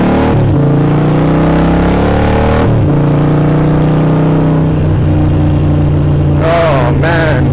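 A 2013 Harley-Davidson 1200 Sportster with Screaming Eagle exhaust pipes revs loudly and close, a deep rumbling idle broken by sharp throttle blips, with a brief voice near the end.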